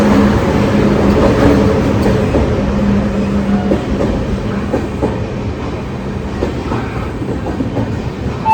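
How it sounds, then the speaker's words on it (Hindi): The Sevagram Express from Nagpur, bound for Chhatrapati Shivaji Maharaj Terminus, rolls past with a loud, steady rumble and rhythmic clatter of wheels over rail joints, heard up close. "ये आती है आप लोगों की नागपुर से चलकर छत्रपति शिवाजी महाराज टर्मिनस की ओर जाने वाली सेवाग्राम एक्सप्रेस"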